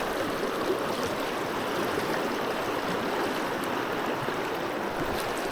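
Fast-flowing river water in New Zealand rushing in a steady, dense broadband roar that holds evenly throughout, close and continuous with no voices.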